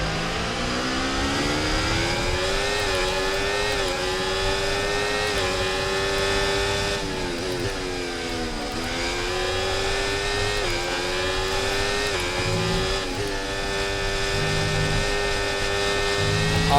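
High-pitched F1 race car engine in the F1 24 video game, continuously revving with rising and falling gear-shift sweeps, loud and sustained throughout.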